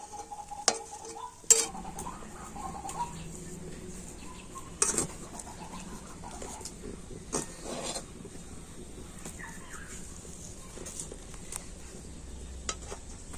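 A spoon stirs semolina dough in a pan on the stove, making soft, close scraping and knocking sounds with a few sharper clinks against the pan over faint background hiss.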